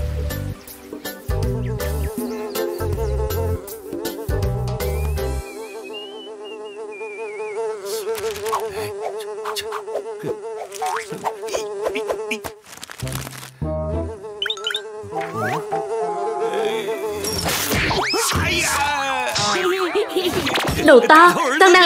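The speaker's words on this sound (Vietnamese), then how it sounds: "Con đang đánh ruồi. Bố xem, đều là bọn ruồi nhặng quấy rối con." Cartoon flies buzz in a thin wavering drone that weaves through a comedic animated scene, joined by bouncy effect sounds and bursts of lively cartoon voices.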